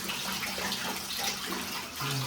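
Hot water gushes steadily from a tap fed by a geyser water heater, a dense, even hiss of flowing water heard close up and alone.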